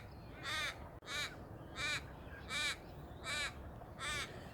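Crows at Sturt Creek gorge near Adelaide caw repeatedly in a steady rhythm, six harsh calls spaced about every seven-tenths of a second, fairly close and clear over faint outdoor background.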